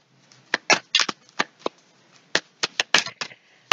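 Oracle cards are shuffled by hand, with a quick series of crisp, close riffling slaps and flicks in irregular clusters and no voice over them.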